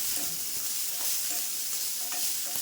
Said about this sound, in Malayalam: ഇതെല്ലാം കൂടെ നമ്മൾ ഈ എണ്ണയ്ക്കകത്ത് വെളിച്ചെണ്ണയ്ക്കകത്ത് തന്നെ ഇട്ട് മൂപ്പിക്കുകയാണ്